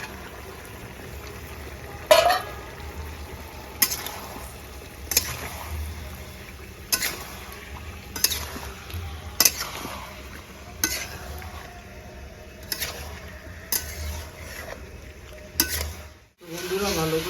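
Green chillies and fried chickpeas sauté over a clay stove with a low steady sizzle, punctuated by regular scraping spoon strokes every second or so, close and moderately loud.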